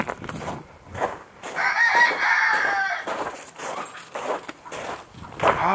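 Chickens squawking and clucking around a backyard brooder, with a rooster-like crow rising in the middle; the calls come close and fairly loud in short overlapping bursts, with some rustling and footsteps.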